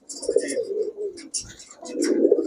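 A male pigeon coos in a loft of fancy pigeons, giving a run of close, throaty rolling coos with brief pauses, plus faint chirps from other birds in the background.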